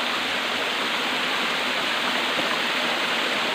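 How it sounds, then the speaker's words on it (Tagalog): A waterfall pours without a break, loud and close, a dense even roar of falling water with no voices. "Kaya dito sa talon na to."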